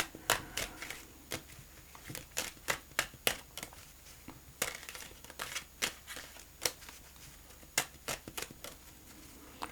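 Tarot cards being shuffled and laid out, giving a steady run of sharp, close snaps and soft slaps with brief pauses between, fairly quiet over a low background hum.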